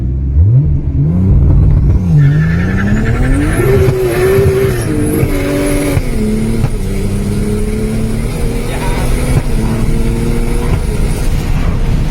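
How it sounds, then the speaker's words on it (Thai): A Mazda RX-8 with a swapped Toyota 2JZ engine and a BMW M3 seven-speed DCT launching from about 3,500 rpm: a loud, close engine roar climbing in pitch through quick upshifts, with brief tire squeal. "นี่นะครับเรามาทดลองออกตัวเกียร์ DCT กันนะครับ"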